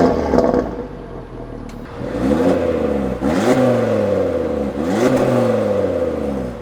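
A parked car with an aftermarket mid pipe replacing the secondary cats is revved repeatedly, three or four sharp climbs and falls in pitch, loud and close, with a slightly raspier exhaust note than stock.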